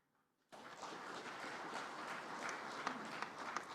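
After a moment of near silence, a large audience at an Indonesian presidential address breaks into sustained clapping, a steady dense wash of applause heard from a little distance that keeps going to the end.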